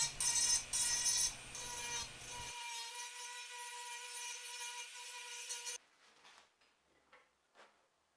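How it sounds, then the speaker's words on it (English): A Dremel rotary tool fitted with a sanding bit smooths the edges of freshly cut plastic, giving a steady high motor whine with gritty rasping. It cuts off partway through, leaving a few faint handling knocks. "Now I am changing out the bit to a sander so I can round off the edges of the plastic I just cut."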